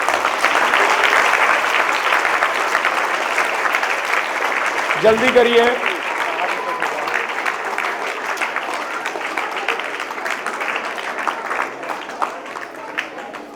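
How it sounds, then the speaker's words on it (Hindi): An audience at a CBSE school award ceremony applauds steadily for the whole stretch, a dense wash of many hands clapping, while a voice briefly speaks over it partway through. "आप लोग थोड़ा ताली वाली बजा दीजिए।"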